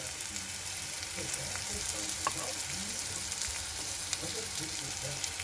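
Ginger-garlic paste frying in a pan with softened eggplant, being cooked down for a Bengali begun alu chokha, makes a continuous close sizzle with scattered crackles and the scrape of stirring, and no one speaks.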